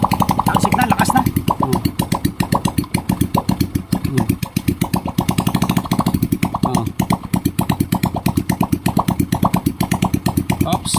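A Honda RS 125 two-stroke motorcycle engine runs with a rapid, uneven pulsing beat and throttle blips, close up, while someone talks over it.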